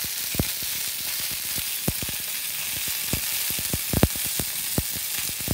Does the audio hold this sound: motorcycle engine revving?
no